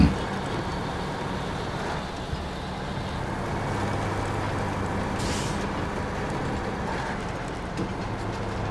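A truck in the SnowRunner video game idles with a low, steady engine rumble, broken midway by a brief sharp hiss of released air from the air brakes, with no voices.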